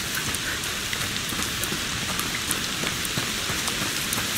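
Steady rain falls in a night scene of the game A Plague Tale: Requiem, a dense even patter on surfaces with scattered close drops ticking through it. The rain runs continuously with no speech.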